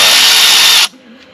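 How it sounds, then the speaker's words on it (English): A power tool spins the nut off a mower idler pulley on a 52-inch Wright Stander, a loud, steady high whir for under a second that then stops abruptly, followed by a faint quiet. "So I'll put my wrench on that, and let's hope that nut's not welded on."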